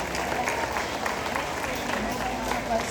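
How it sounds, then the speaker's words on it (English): Audience at a high school graduation ceremony applauds in a steady, dense wash of clapping that holds at an even level for about three seconds. "Let's give them a thunderous round of applause."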